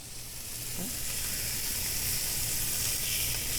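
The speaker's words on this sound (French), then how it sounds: "on va finir notre sauce avec un peu de beurre" Butter sizzling in a pan as it finishes a white wine sauce, a steady close frying hiss holding at an even level throughout with no talk.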